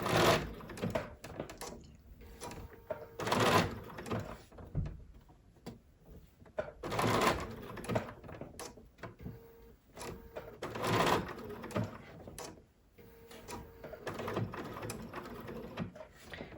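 A Bernina sewing machine stitches around a drawn leaf design in bursts, its motor whirring loudly for a few seconds at a time with quieter pauses between runs while the fabric is pivoted.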